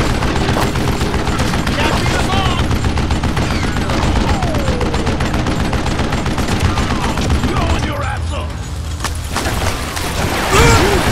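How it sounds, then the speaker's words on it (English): Sustained gunfire fusillade in the Western shooter Call of Juarez Gunslinger, dense overlapping shots rattling continuously, with a brief lull near the end before a final burst. "a fusillade of bullets come raining down from on high"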